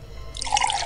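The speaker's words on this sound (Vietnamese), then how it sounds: "rót trà, rót trà" Tea poured in a video game, a short liquid trickle and splash that starts partway through and runs to the end, fairly close and clear.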